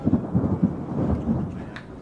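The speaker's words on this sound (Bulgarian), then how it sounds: "Започна да гърми над кортовете в Борисовата градина." Low thunder rumbles over outdoor tennis courts in Borisova Garden during a mixed doubles final, a soft rolling murmur swelling and fading across two seconds with no voice.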